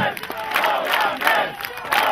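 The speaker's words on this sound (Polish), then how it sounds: "Gorący brawa, moi drodzy" Crowd cheering and applause for the Lowlanders team at a Falcons event, loud and continuous with shouts rising throughout.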